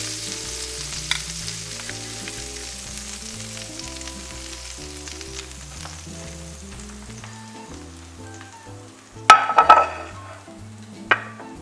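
A marinated ribeye steak sizzles in a pan as a steady, moderate frying hiss, with a few sharp clatters near the end as it is flipped.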